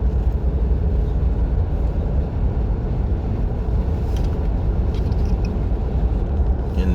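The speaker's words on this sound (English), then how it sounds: "Been a while since I did a ride along. 2026. Jeep Grand Cherokee." Inside a 2026 Jeep Grand Cherokee on the road, a steady, dense low rumble of tire and engine noise fills the cabin without a break, and nobody speaks.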